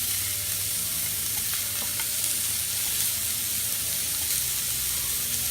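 Meatballs brown in a pan next to stewing tomatoes, with a dense, steady frying sizzle close by and a few faint clicks, continuous and with no voices.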